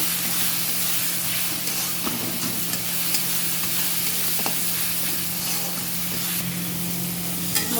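Fish frying in oil with turmeric and salt, in a pan of onion paste masala for a potato and taro curry, sizzling and hissing steadily throughout with occasional stirring clinks, close and loud, with no talk.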